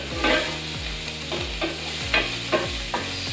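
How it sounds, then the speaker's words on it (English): Pancetta and garlic frying in oil in a pan, a steady close sizzle broken by regular scraping strokes of a spoon stirring, with no talking. "I'm going to keep cooking this out till that pancetta gets really nice and crispy"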